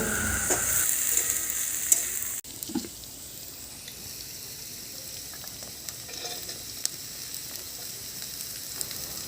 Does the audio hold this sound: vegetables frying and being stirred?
yes